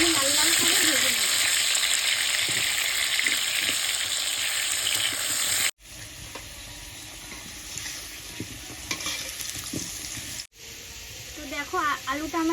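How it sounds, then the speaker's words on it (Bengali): Potato pieces frying in hot salted oil until reddish brown, with a steady loud sizzle and occasional stirring scrapes, broken by two brief pauses. "এবার আলুগুলো আমি লাল লাল করে ভেজে নেব।"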